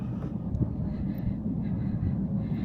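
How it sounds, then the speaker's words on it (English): A low, steady rumble of the Southend Pier train approaching in the distance, continuous and fairly loud throughout, with faint speech mixed in. "As you can see in the distance, the train is coming."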